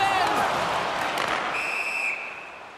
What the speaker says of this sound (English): There's the whistle stopping the play